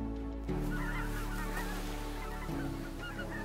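Red-breasted geese on migration in Romania honking steadily: a dense chorus of overlapping nasal calls over a constant low droning background, continuous and close.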